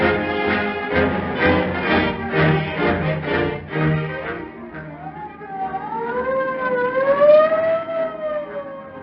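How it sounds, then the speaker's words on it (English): A police siren from an old radio crime drama, with a rising and falling wail that sweeps up and down over several seconds, loud and alone with no speech. "When you hear the scream of the siren and police cars go tearing past"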